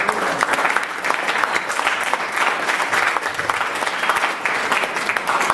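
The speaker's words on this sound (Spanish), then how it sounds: "Y puedes dar un fuerte aplauso al Señor." A church congregation gives loud, sustained applause, steady and dense from start to end with no talk over it.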